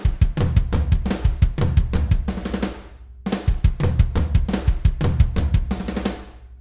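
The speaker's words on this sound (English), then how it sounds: "during slower drum fills, where two drums are hit at the same time, so in this case snare and toms" Programmed drum fill in which snare and toms are struck nearly together with slight flams, a dense run of hits repeated twice with a short gap between, close and fairly loud.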